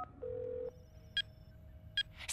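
Telephone tones sound as a call is placed to a school inspection office, with a long steady tone followed by two short bright ring bursts over a low background hum.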